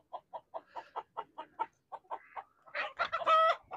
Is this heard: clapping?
no